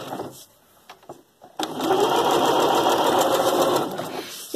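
A sewing machine stitching along a fabric edge, a few short taps and clicks first, then a loud steady mechanical whir for nearly three seconds before it stops, close up with no talk.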